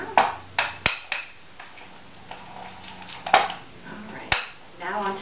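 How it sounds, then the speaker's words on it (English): A utensil stirs crumbled blue cheese into a bowl, giving a series of distinct clinks and scraping knocks against the dish, close and fairly loud, with a faint voice in the background. "I'm going to stir that in there."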